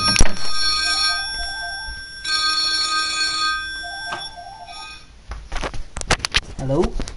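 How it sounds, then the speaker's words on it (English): A phone rings in repeated trilling bursts over a steady electronic hum during a PS4 game broadcast, then the ringing stops and clattering handling noises follow. "And my fucking phone's ringing."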